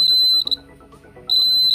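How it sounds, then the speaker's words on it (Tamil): A homemade distance alarm emits a loud, steady high-pitched electronic beep in two bursts, briefly cutting out in the middle with a quieter gap before sounding again. "இப்போ வந்து நம்மளுக்கு அலாரம் சவுண்டு கேட்கும்"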